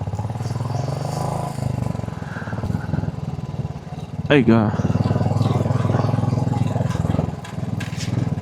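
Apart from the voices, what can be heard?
motorcycle engine while riding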